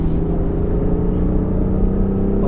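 A BMW i8 Roadster drifting through a turn on a race track, its engine a steady, close, unbroken drone that holds level for the whole stretch, with no voices.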